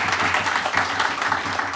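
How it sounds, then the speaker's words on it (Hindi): Audience at a talk by a university lecturer clapping briefly, a moderate, steady patter of many hands with a little room echo and no speech. "तालियां बजा दो इनके लिए।"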